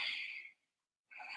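Ujjayi-style yoga breath drawn through the throat with the mouth closed, a soft raspy hiss, Darth Vader-like, on the inhale and again on the exhale, separated by a short silent pause.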